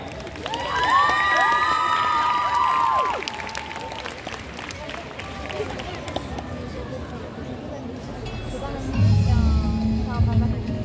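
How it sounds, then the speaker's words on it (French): A crowd at the Japan Expo Centre 2023 cosplay show cheers and applauds, with shouts and claps rising over a tonal music passage early on, easing through the middle, then swelling loudly again near the end. "S'il vous plaît, une main d'applaudissement pour Lightning Yumiya."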